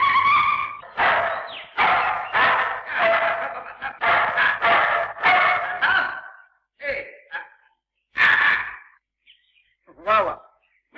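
A dog at a bungalow lets out a quick run of loud, close barks and yelps, then a few sparser barks separated by short silences.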